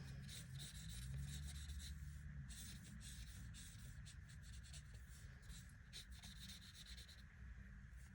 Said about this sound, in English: We'll highlight it up here as paid.